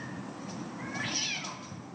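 Cats fighting, with a drawn-out, wavering yowl that rises and falls over a couple of seconds, moderately loud against a steady background hiss.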